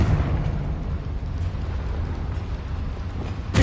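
A Confringo blasting spell from Hogwarts Legacy, a dense rumbling explosive boom that fills the whole moment, loud and sustained with no talk.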